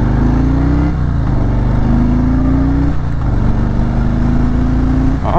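A Harley-Davidson Road King Special motorcycle pulls through the gears, its engine note rising steadily, dipping at each of about three upshifts and climbing again, loud and close with no talk.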